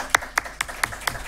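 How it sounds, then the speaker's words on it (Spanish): Six sharp hand claps spaced evenly, like one or two people clapping slowly and steadily, fairly close with a quiet room behind. "vamos a darle un aplauso"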